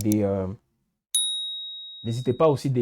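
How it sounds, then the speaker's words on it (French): A short bright notification ding rings out alone after a pause, one sharp strike with a sustained high tone fading over about a second, between stretches of French speech. "activez la cloche de notification"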